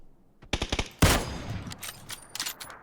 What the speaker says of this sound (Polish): Już do mnie strzela!